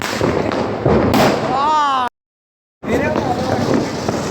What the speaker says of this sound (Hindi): और यहाँ पे फोड़ेंगे गौरव भाई, खतरों के खिलाड़ी।